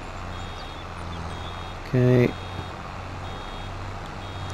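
Reversing beeps from a baler in Farming Simulator 22 on a sheep farm, a short burst of a few quick electronic tones near the middle over steady engine hum, with a brief spoken word nearby.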